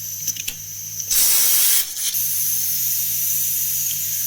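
A pressure cooker, just taken off the stove after three whistles while making chicken pulusu, lets out a sharp, loud burst of hissing steam lasting under a second, set against a steady low kitchen hum.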